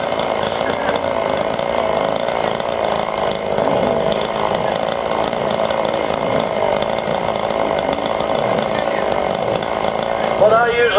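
A small chainsaw runs steadily at idle or part throttle outdoors, a loud continuous buzzing drone with no breaks.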